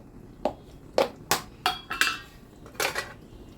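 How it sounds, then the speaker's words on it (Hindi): A spoon adds garam masala to a pan of soybean and potato curry, striking the metal pan in about seven sharp, separate clinks and taps, close and fairly loud with no talk. "हम इसमें गरम मसाला डालेंगे"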